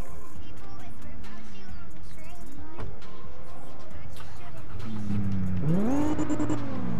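Revving engine of a Toyota Supra in a driving simulator game rises and falls in pitch, swelling loudest near the end as the car accelerates, with a voice talking briefly over it.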